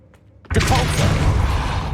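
Depulso force spell cast in Hogwarts Legacy, a sudden loud whooshing blast that bursts in after a brief quiet moment and then holds as a dense, roaring rush to the end.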